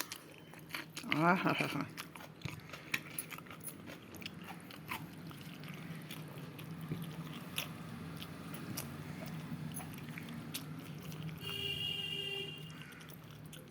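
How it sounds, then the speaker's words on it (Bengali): Someone eating a spoonful of cucumber, with soft, intermittent crunchy bites and chewing close up, a brief hum of pleasure early on and faint background noise throughout. "এক চামচ শসা খাই।"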